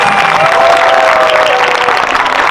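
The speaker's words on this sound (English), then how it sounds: "Please give a big round of applause for our dancer and flag holders" Loud, dense audience applause and cheering for dancers and flag holders at an outdoor Khmer New Year festival in Maryland, continuous throughout with a faint sustained tone underneath.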